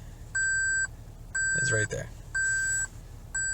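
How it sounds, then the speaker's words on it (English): A 2020 Lexus LX 570 sounds repeated loud warning beeps when shifted into low 4, steady tones pulsing about once a second while someone talks briefly between them. "where that is yelling and beeping at me"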